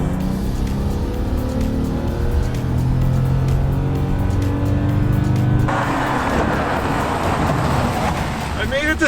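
A car accelerates at full throttle in a drag race between a 1987 Porsche 944 Turbo and a BMW M5. The engine drones loud and close throughout, and its tone changes sharply partway through as the gear shifts.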